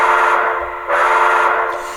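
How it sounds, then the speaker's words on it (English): Two blasts from a model locomotive whistle on a SoundTraxx sound decoder, a loud sustained whistle tone broken by a brief gap just before the second blast. "So we blast our whistle."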